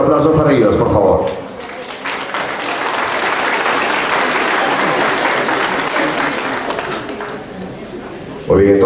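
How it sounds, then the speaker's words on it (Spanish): A crowd applauds steadily for several seconds at a graduation ceremony, with a voice speaking Spanish briefly before the clapping and again as it ends. "Un fuerte voto de aplausos para ellos, por favor"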